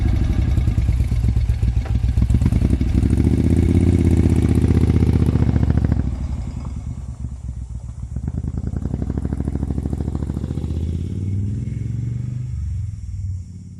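A 1972 Moto Guzzi motorcycle engine runs loud and close, a steady throbbing drone with mechanical clatter, then drops in pitch and revs back up as the bike pulls away and rides on.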